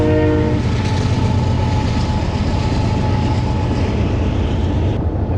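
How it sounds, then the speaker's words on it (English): A loud, close train rumbles past in the wilderness with heavy low-pitched roar and a brief horn-like tone at the start, continuous throughout. "Is that the train again?"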